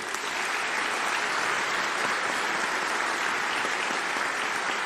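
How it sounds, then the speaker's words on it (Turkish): Dense, steady applause from a large crowd at a political rally with tea growers from Rize, sustained and loud throughout with no break. "Sanırım bu alkışlar sözü aldığımızın garantisidir."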